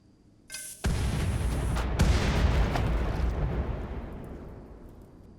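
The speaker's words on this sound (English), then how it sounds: "they explode in a deadly explosion" A deadly explosion from a creature in a RimWorld horror mod: a sharp burst, then a loud, broad rumbling blast that slowly fades over several seconds.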